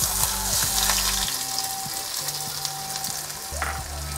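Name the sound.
chopped onion frying in hot white oil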